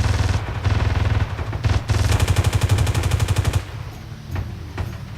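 Rapid automatic gunfire from weapons in the video game Socom Confrontation, dense loud bursts of machine-gun shots that rattle continuously for about three and a half seconds, then give way to a few sparser, fainter shots.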